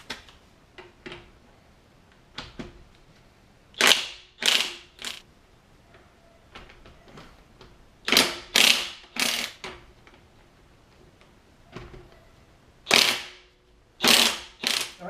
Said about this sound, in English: I'm just going to loosen up the lug nuts in the back of the Jeep on the passenger side and also on the front